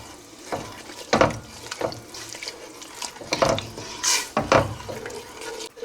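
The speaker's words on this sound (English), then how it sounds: "turn it off the heat and stir the sugar into the warmed vinegar" Sugar is stirred into warmed vinegar in a pan taken off the heat while making chilli jam, giving soft scraping and sloshing strokes in an irregular rhythm, close and fairly quiet.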